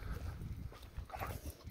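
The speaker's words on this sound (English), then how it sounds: "The doggo barks." A dog out in a residential neighborhood on a rainy walk gives a short, faint bark near the end, set against quiet outdoor background.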